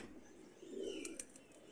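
A red-eyed golden pigeon in a cage gives a soft, low coo that swells briefly in the middle. Faint chirps and a light flutter sound close by in a quiet setting.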